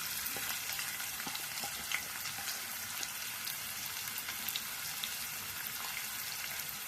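Steady, dense sizzle of onions frying in hot oil, with scattered crackles and pops throughout and no voices.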